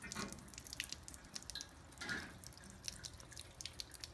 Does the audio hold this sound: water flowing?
yes